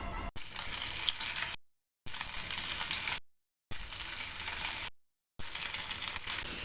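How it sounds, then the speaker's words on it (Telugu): Marinated garlic chicken shallow frying in oil gives a steady, bright sizzle that runs close and constant, cut by three sudden brief silences, with no talking. "హాఫ్ అన్ అవర్ పాటు మ్యారినేట్ చేసి ఉంచిన చికెన్ని షాలో ఫ్రై చేస్తున్నాను"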